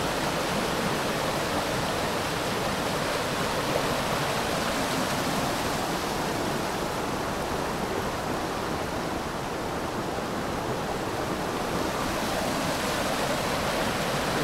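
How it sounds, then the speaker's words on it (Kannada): Kaveri river water pours steadily down at a resort channel, a loud, continuous broadband rush with no pauses, heard close and alone. "ನೀರು ಬೀಳೋದು."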